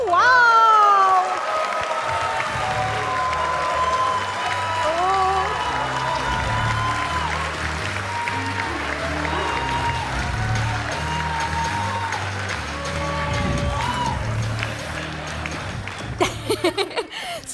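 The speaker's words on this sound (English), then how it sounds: "everyone cheer for Pontus as Garruk" An audience at a cosplay contest at MagicCon Amsterdam cheers, whoops and applauds throughout, loud and close, with sustained clapping and shouting and a few sharper claps at the end.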